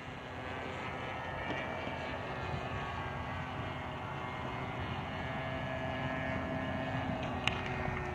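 The motor of a Seagull Models PC-9 radio-controlled model airplane drones steadily at a distance, a faint continuous buzzing whine that holds fairly even throughout, with no voices over it.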